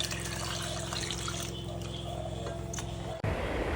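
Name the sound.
water poured into mango dal soup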